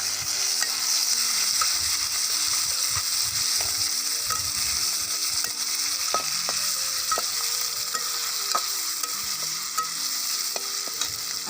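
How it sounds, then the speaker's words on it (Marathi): Stuffed eggplant masala with curry leaves and garlic-ginger paste fries in a pan, a steady close sizzle with scattered light stirring scrapes and taps, no voices. "जराशी वाटण राहिलं होतं थोडंसं ते वांग्यातलं शिल्लक ते पण टाकले तळायला"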